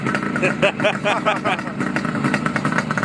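A suicide-shifter motorcycle engine runs nearby with a steady, lumpy idle and mechanical clatter, while people talk over it throughout.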